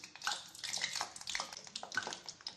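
Cut brinjal (eggplant) pieces sizzle and crackle steadily in hot oil over a medium flame while Tamil oil-brinjal kuzhambu is prepared, a close, continuous bubbling hiss without voices.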